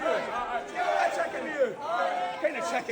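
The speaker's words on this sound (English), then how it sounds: "Again, another chicken chant." Wrestling crowd at a PWR PRO show chanting in a rhythmic, repeated pattern, heard from the arena floor as a steady mass of voices.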